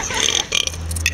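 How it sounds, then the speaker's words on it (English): A single short, close burp during a belching competition, rough and low, with faint background noise and no talking. "Hey, stop burping."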